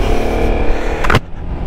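A 2024 Yamaha X-Max Tech-Max scooter with a 28-horsepower engine accelerates on a ride, its steady engine drone close and continuous, with a brief louder burst before it eases off.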